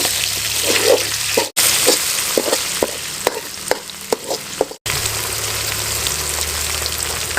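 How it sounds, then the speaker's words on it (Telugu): Tomatoes tossed into a hot frying pan in a village kitchen during chicken fry cooking, a loud continuous sizzle with stirring clicks and scrapes, two brief drop-outs breaking the hiss. "ఇప్పుడు టమాటాలు వేసుకోండి."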